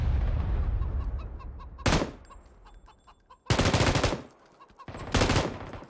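Video game gunfire: three loud bursts of rapid automatic fire with quieter stretches between, first over a low rumble.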